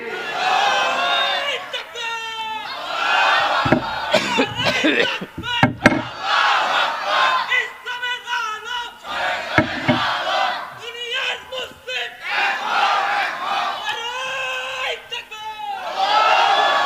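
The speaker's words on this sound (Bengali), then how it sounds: "একটা তাকবীর দেন" A large crowd at an Islamic sermon gathering roars the takbir chant in loud, repeated massed shouts, with a leading voice calling out between the responses.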